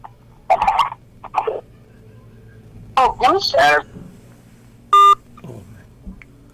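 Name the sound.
telephone ringing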